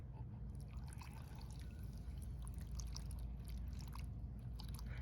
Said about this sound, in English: I've got some water here, and we're gonna see how it filters